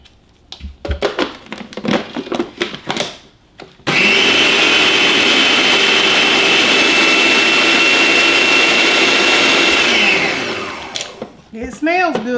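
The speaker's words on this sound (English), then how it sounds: "maybe I'll just blend it in that juice with the jalapeno" A kitchen blender whirs loudly and steadily for about seven seconds, blending jalapeno and juice for salsa. It winds down at the end, and a person talks before and after.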